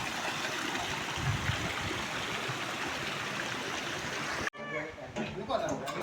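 Irrigation water pours steadily from a breach cut in a field bund down into the lower rice paddy during Konkan rice transplanting, a continuous close rushing that cuts off abruptly near the end, followed by quieter outdoor sounds.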